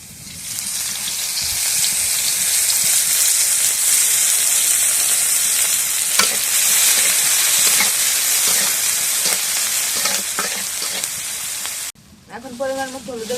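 Oil hissing and sizzling loudly in a cooking pan while preparing hilsa fish with bottle gourd, a steady bright frying roar that suddenly drops off near the end, leaving faint clatter.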